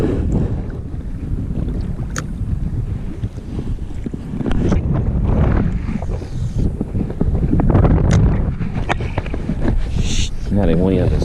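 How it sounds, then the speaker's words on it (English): Steady wind rushes and buffets across a lake from a fishing boat, a continuous broadband roar that swells louder midway, with water and boat knocks underneath and a brief tonal squeak near the end. "That wind is miserable."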